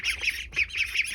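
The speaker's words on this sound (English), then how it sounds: "They're not my ducks." Farm ducks squawk loudly and repeatedly at close range, in two bursts of harsh, raspy calls separated by a brief dip, with no talking.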